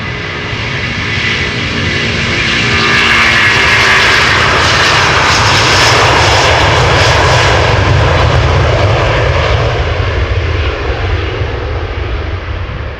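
Airliner engines at Amsterdam Schiphol Airport, a loud, broad roar that swells and holds steady for several seconds before easing slightly, heard alone without voices.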